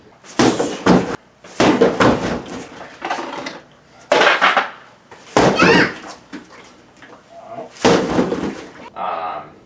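Punches land on a Century WaveMaster XXL freestanding bag in a run of sharp, loud, close smacks, some in quick pairs, spread over several seconds with the base clattering after each hit.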